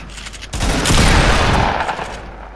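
Rapid gunfire in a PC versus console video game 1v1 match in playground mode, a loud dense burst of shots lasting a couple of seconds, close and unbroken.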